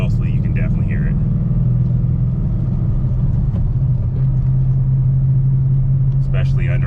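A car engine, still fairly fresh and cold, runs while driving and gives a steady, loud low rumble with faint, intermittent chatter riding on top of the drone.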